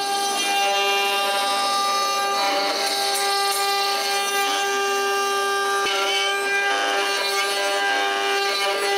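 A CNC router carves a rabbit's ear into a block of wood, with a loud, steady high-pitched spindle whine that runs continuously and cutting noise that rises and falls as the bit moves.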